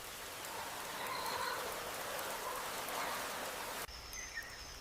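Steady rain falls on Komodo island, a dense continuous hiss of drops on foliage and ground, with a faint bird call and a sudden shift in tone near the end.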